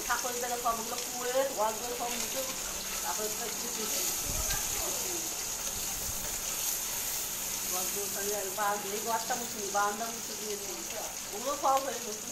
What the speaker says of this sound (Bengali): তেল গরম হয়ে গেছে, এই ডিমগুলো এক এক করে দিয়ে দেওয়া হচ্ছে ভাজার জন্য।